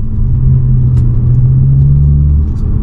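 Inside an automatic car, the engine hums as a low, steady rumble while the accelerator is held down, loud and constant with no clear rise in pitch.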